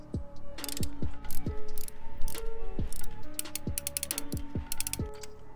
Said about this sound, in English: I'm gonna torque these down to 23 foot-pounds